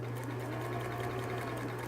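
Sewing machine running a straight 3/8 inch seam on a cap, a steady, continuous close mechanical hum with no talking.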